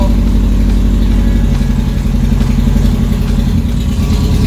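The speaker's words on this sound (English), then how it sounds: "Snap that motor right up." A Lemons race car engine runs loud and near, with a rough, clattering mid-range rumble that holds steady and then drops slightly in pitch, with no voices.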